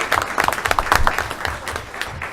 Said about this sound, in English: let's just give a last round of applause to all their teachers, parents, and everyone who supported them